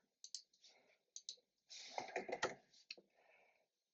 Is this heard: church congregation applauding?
no